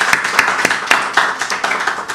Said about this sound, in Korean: 이 성도님을 위해서 박수 한번 쳐주세요.